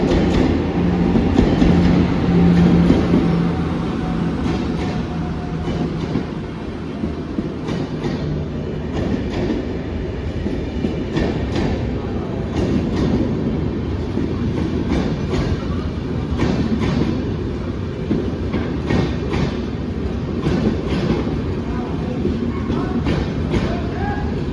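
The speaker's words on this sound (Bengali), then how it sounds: "বর্ধমানের 1 নম্বর প্ল্যাটফর্মে কলকাতা জম্বু তাওয়াই আসছে" The Kolkata–Jammu Tawi train arriving at platform 1 of Burdwan station, a loud, steady rumble with rhythmic wheel clatter throughout, a faint horn-like tone early on and some crowd chatter beneath.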